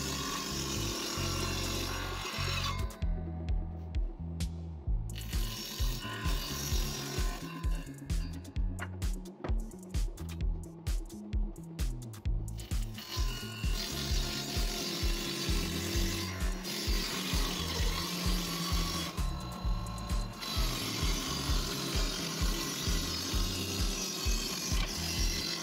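A lightweight homemade 60-watt electric saw runs with a steady, rhythmic mechanical chatter of fast repeating clicks, broken by a few short dips.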